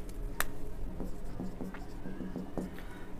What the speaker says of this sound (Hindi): नोट करके लिखते हैं